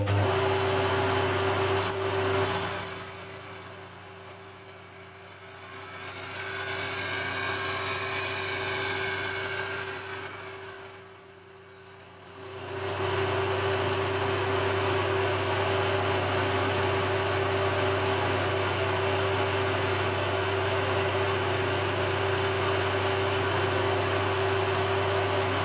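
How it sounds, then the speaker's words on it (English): A fly cutter machines the crankcase of a Titan .60 glow plug model engine, a steady loud mechanical drone with a constant high whine, briefly dipping before resuming, no talking. "It's a pretty heavy cut for a fly cutter, but it means that the last cut I do will be a bit lighter and leave a better finish."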